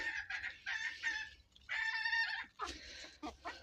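A rooster crows several times nearby, loud and raspy, followed by a few short clucks.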